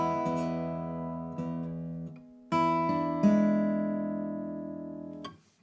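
An acoustic blues guitar is played alone in a quiet room, with a few plucked notes and chord strikes that ring and slowly decay. The playing is soft and unaccompanied.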